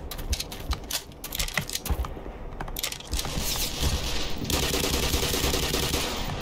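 Enemy gunfire in Black Mesa crackles in rapid bursts of clattering shots, close and busy, then gives way to a denser sustained roar of fire toward the end.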